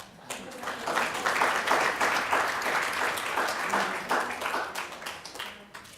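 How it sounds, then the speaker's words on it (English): Applause at a science symposium's opening remarks for a mentor of interns, a room of hands clapping that swells quickly, holds steady, then thins out and tapers off toward the end. "We can applaud Raina."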